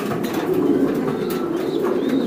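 Racer pigeons at a large loft coo in a steady, overlapping chorus close by, a continuous low warble with faint chirps above it and no talking.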